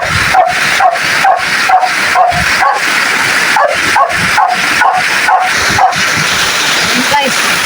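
Dogs bark in rapid repeated bursts close by during heavy rain and a flooded, clogged drain, yips and whimpers mixed in, with a voice talking over them.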